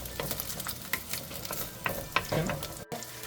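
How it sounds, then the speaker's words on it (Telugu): Ginger garlic paste frying with browned onions in a pan for a Telangana fish curry, a soft steady sizzle broken by scraping stirs, close by and with no talk. "అల్లం వెల్లుల్లి వేసి అది వాసన పోయే వరకు ఫ్రై"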